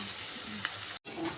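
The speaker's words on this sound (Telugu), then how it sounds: "సో ఇలా ఉన్నదాన్ని బాగా ఫ్రై చేసుకోవాలి" Onions frying in a pan for biryani, a steady broadband sizzle with a brief stir, a short break near the end, then the sizzle resumes, close and moderately loud with no voices.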